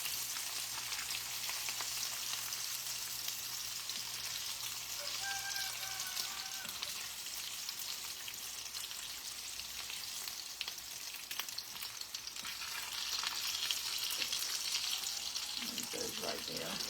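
Sausages frying on a wide breakfast griddle, a continuous dense sizzle like light rain holding steady throughout and swelling a little toward the end, with occasional faint clinks in the background.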